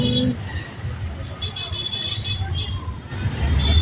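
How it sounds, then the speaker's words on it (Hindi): Busy city road traffic in Ahmedabad roars steadily nearby, car engines and passing vehicles mixed with repeated short horn toots throughout. "अब यहाँ पे ट्रैफिक अभी भी बहुत है"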